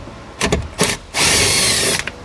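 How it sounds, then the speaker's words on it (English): A power tool driving a 10mm socket to remove panel bolts on a 2022 Chevrolet, with short bursts of whirring followed by one longer sustained run, loud and close. "we're going to grab a 10mm socket and remove 2 bolts that holds this paneling on"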